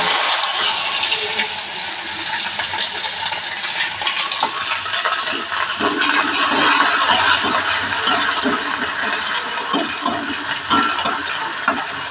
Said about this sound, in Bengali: তেলটা আমার চলে এসেছে আমি এবারে একটা পেঁয়াজ দিয়ে